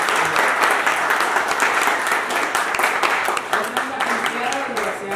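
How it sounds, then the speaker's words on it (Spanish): Steady applause for young people fills a behind-the-scenes moment on a Spanish-language video shoot, a dense, even wash of many hands clapping throughout with faint voices underneath. "dar un aplauso por a los chavos que se dejaron"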